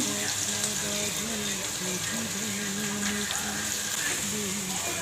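Chopped ginger hits hot oil that is already frying garlic, giving a dense, steady sizzle up close that continues unbroken throughout.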